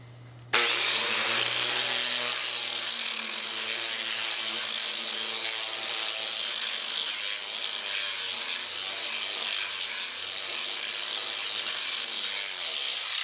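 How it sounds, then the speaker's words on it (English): A grinder laid flat and run around a hand bevel gives a steady, close abrasive roar that starts abruptly and continues evenly, with no talking. "lay the grinder on there flat, and run it around"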